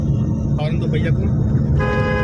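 A car horn honks in short toots from inside a car moving through narrow lanes, loud over steady engine rumble, with someone talking throughout.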